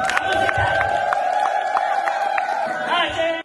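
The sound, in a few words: audience clapping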